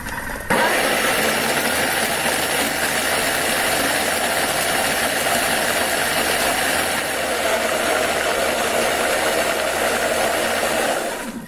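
A kitchen blender on speed 7 churns a chocolate brownie mixture, its motor kicking in abruptly and then holding a loud, steady whirring drone with no letup.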